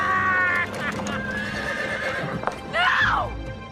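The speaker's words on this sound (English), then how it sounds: "It's Champion the Wonder Horse" A horse whinnies loudly near the end, with hoof clatter and a busy, noisy background throughout.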